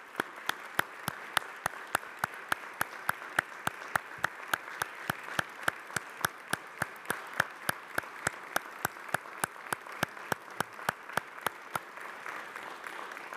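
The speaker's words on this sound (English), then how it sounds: "I want to give a big round of applause to our friend and colleague" City council members and audience applaud a late colleague, Lou Fiddler. It comes as a sharp, evenly spaced run of claps, about three a second, steady and fairly quiet, that stops just before the end.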